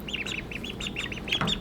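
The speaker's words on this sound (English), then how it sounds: "There you go, little ducklings." Young ducklings peeping in a rapid series of high, repeated calls close by, a busy chirping chorus with a faint low background.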